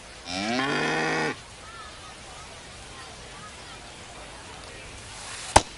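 A single cow moo plays as a short sound effect in the baseball video game MLB The Show 25, a clear, loud low call lasting about a second, followed by a quiet crowd murmur and a sharp click near the end.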